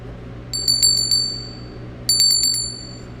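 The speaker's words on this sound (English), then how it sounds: "Next one is a bell." A small hand bell used in pagan ritual rings in two bursts of quick bright dings, each burst several strikes that ring out and fade, close by over a faint steady hum.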